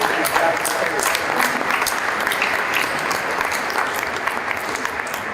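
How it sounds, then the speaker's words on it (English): A crowd at a commemoration event for the 32nd anniversary of the Americans with Disabilities Act applauds steadily right after a birthday song, with dense, sustained clapping and a few cheers holding throughout. "Give yourselves a round of applause."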